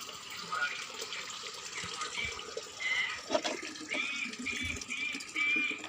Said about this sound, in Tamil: தண்ணியெல்லாம் பிடிச்சி எல்லாத்துலேயும் பிடிச்சி வச்சுக்குவேன்